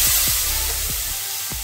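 Steady hiss and sizzle of onions frying with spices in a hot pan, continuous and close, with a few soft knocks of stirring.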